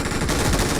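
Rapid automatic gunfire in the PUBG battle royale game, a dense, loud stream of overlapping shots with no pause through the short burst.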